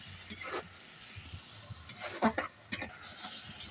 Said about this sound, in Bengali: একটু নাড়াচাড়া দিয়ে নেবো।